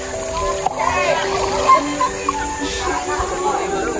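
Water splashes at a river resort in Candelaria as someone jumps in, with bursts of spray mixed among excited children's and adults' voices close by.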